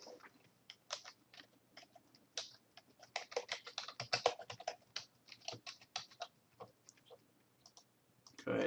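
A database password is typed on a computer keyboard in a quick, irregular run of close clicking keystrokes that builds to dense bursts before slowing, with no voices.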